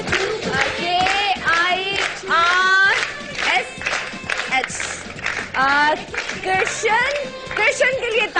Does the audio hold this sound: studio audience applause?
yes